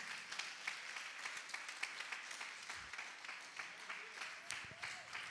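A church congregation at a family worship service claps together in a steady, dense patter. The applause sounds somewhat distant and is mixed with faint voices.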